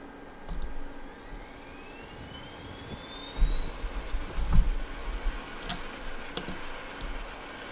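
A Mirage F1 jet engine spools up during a DCS World start-up. A rising turbine whine climbs steadily over a low rumble, with a few clicks and thumps scattered through it.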